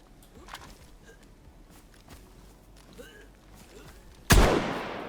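Muffled gunfire from the video game On the Precipice pops faintly amid low background noise, ending with one sharp, loud shot near the end.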